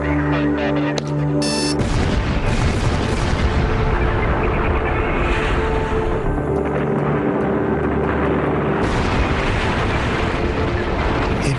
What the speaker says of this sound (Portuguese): A explosão parecia fogos de artifício.